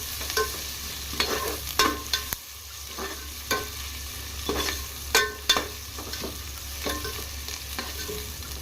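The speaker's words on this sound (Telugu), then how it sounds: "ఈ ఆనియన్స్ లైట్ బ్రౌన్ కలర్ వచ్చేదాకా ఫ్రై చేసుకుందామండి" Sliced onions and green chillies fry in a pan while being stirred, a steady close sizzle broken by repeated scraping strokes of a spoon against the pan at a regular pace.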